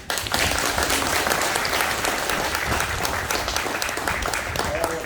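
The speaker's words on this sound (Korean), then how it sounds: "여러분 박수 한번 부탁드립니다" An audience at a meeting with a lawmaker at a welfare centre for disabled people applauds, a loud, dense stretch of crowd clapping that stays steady throughout.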